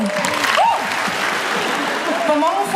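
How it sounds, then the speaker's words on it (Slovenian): An audience at a Slovenian variety show claps in a dense burst of applause, with voices heard briefly over it. "En velik aplavz"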